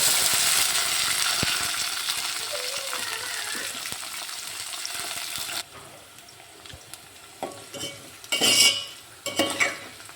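Onions and curry leaves hit hot oil in a pan for a Tamil tomato dish, giving a loud, steady sizzle at first. It then quiets and gives way to scraping stirs and utensil clatter against the pan.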